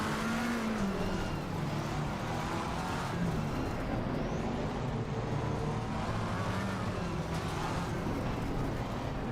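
McLaren 720S GT3 race car engine at the Nürburgring in the Assetto Corsa Competizione game, a steady loud drone with rising and falling revs and gear changes, other cars faintly around.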